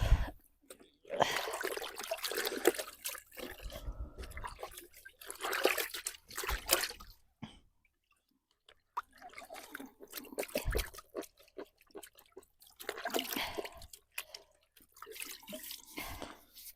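Cleaned bream fish are rinsed under running water in a kitchen, with irregular splashing and trickling bursts separated by short pauses, close and moderately loud.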